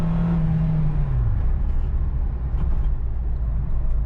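A Ford EcoSport 2.0 16v accelerates, its engine drone sliding down in pitch as it shifts, then holding a steady, loud road rumble and whir from inside the cabin.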